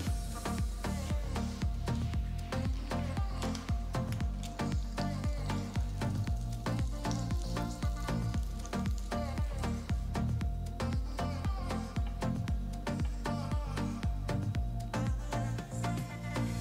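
Butter melting in a grill pan for a toasted sandwich, a continuous soft crackling sizzle with many small pops, steady and fairly quiet at close range.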